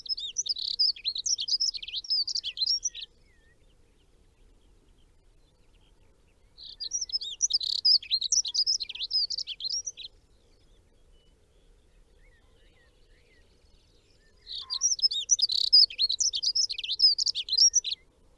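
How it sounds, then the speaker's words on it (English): Dunnock singing a hurried, bubbling warble in three separate bursts of about three seconds each, clear and fairly close, with silence between phrases. "That's a Dunnock song, a little hurried bubbling warble."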